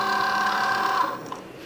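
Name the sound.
Cricut Joy cutting machine pulling in vinyl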